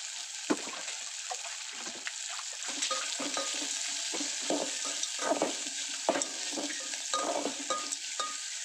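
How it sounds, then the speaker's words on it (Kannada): Food frying in a pan for a homemade breakfast dish, a steady close sizzle broken by repeated scraping stirs of a utensil against the pan, with no voices. "ಈಗ ಇದಿಷ್ಟು ಫ್ರೈ ಆಗಿದೆ"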